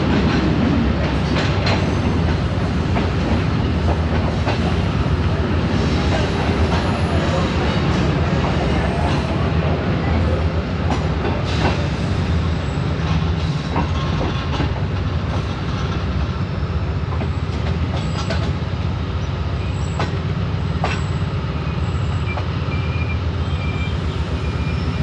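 Pak Business Express passenger train pulling out of Raigarh Junction after a five-minute stop, a continuous loud rumble of wheels on rail with rhythmic clickety-clack and occasional metallic clanks, no talk.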